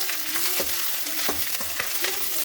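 Drumstick leaves frying in coconut oil in a wok, a dense, bright sizzle broken by several quick stirring scrapes, close and steady, without speech.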